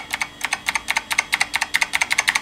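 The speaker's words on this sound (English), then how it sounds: "Type a key on the keyboard." Keys clack rapidly on an old PC computer keyboard at a DOS prompt, a close, crisp run of irregular taps with no talking.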